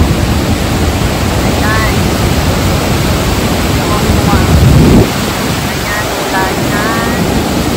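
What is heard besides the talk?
waterfall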